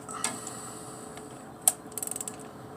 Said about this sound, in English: once it gets a little tough, then I'll put my ratchet on it